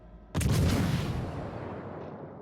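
A loud naval gun salvo from a warship in the World of Warships: Legends video game, one sudden heavy blast that rolls on into a long fading rumble, with no voices.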